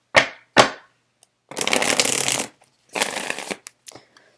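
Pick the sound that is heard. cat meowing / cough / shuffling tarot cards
shuffling tarot cards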